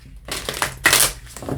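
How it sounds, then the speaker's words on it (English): A tarot card deck being shuffled by hand, a few quick papery riffling bursts separated by short pauses, close and fairly quiet. "I'm going to give this deck a bit of a shuffle."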